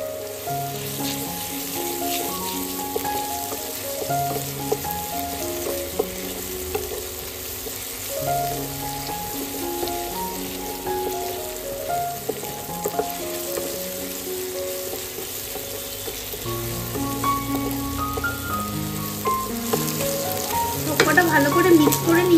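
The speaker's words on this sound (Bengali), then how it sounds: "সবকটা ভালো করে মিক্স করে নিয়েছি আর আদাটাও একটু ভালো করে কষিয়ে নিয়েছি।" Ginger paste frying in a pan for a chicken sandwich filling gives a steady, even sizzle that runs throughout, sitting under soft tonal background music with no speech.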